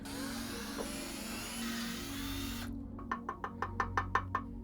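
A power drill bores holes in a camera lens mount, running steadily for a couple of seconds, then firing a rapid series of short, sharp bursts close by.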